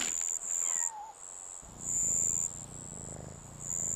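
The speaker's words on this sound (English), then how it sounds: "Oh, there's a cat here." A cat meows in the video game Yonder, a short faint meow near the start, over steady insect-like chirping and ambient game sounds.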